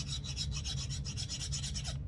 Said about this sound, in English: I'll try to file it down.